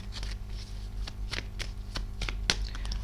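Tarot cards laid down one after another and covered during a reading, giving soft close card slaps and shuffling rustles in a loose, uneven rhythm with no one talking.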